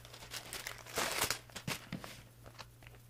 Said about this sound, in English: taped this thing really good. I cut it open.